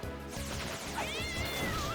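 A cat meows in the Castlevania: Dawn of Sorrow video game, with a rising, wavering cry riding over busy rhythmic game music and clatter, fairly loud and close.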